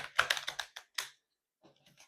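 Tarot cards being shuffled off camera, a quick run of crisp, close riffling flicks and taps in the first second, then a pause and a few fainter soft shuffles.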